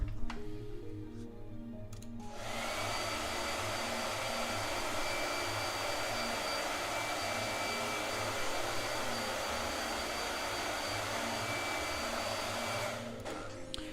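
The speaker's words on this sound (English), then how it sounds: "Blow dryer." A handheld blow dryer runs near a painting desk, switching on after about two seconds with a loud, steady whooshing roar that holds evenly before cutting off near the end.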